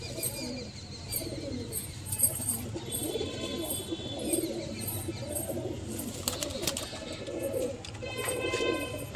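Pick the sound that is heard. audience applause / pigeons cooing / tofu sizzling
pigeons cooing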